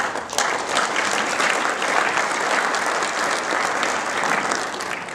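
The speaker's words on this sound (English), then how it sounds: "Let's just have another round of applause for our industry." Steady, dense applause from a large audience at a metalcasting industry conference, even and sustained throughout with no speech over it.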